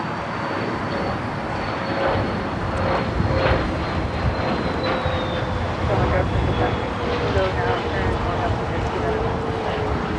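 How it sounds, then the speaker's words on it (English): A Phenom 300 business jet takes off at Los Angeles airport, its engines producing a broad, sustained roar with a thin whine on top that slowly drifts in pitch, steady and fairly close for the whole stretch. "383 taking off to San Francisco on the Phenom 300"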